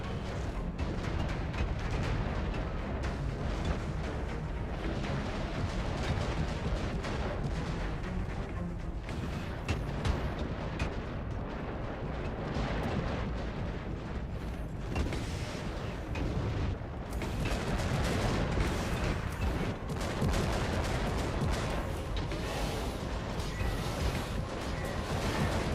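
Dense, continuous cannon and artillery-style fire rumbles through a crowded battle in the Warhammer 40,000: Eternal Crusade video game, loud heavy booms overlapping with constant combat noise throughout.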